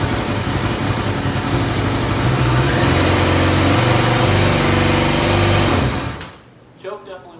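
Superbike engine running with the choke on, a loud close buzzing idle with the revs rising and holding high before cutting off abruptly near the end, followed by brief quiet handling noises.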